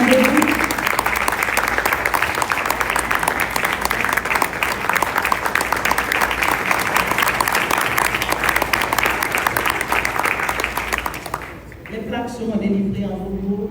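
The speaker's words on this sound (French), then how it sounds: "Je vous prie d'applaudir AECID, le représentant de" An audience at a women's fair applauds the AECID representative with loud, sustained clapping that lasts about eleven seconds and then ends abruptly. A voice speaks over the last moments.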